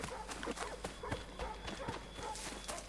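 A horse in the video game Assassin's Creed 3 clip-clops along at a steady walking rhythm, hoof beats close and clear over low background ambience.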